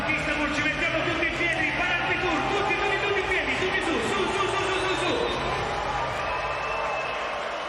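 A packed volleyball arena crowd at a Champions League women's final in Istanbul roars and cheers continuously, a dense wash of chatter and shouting filling the space without letup.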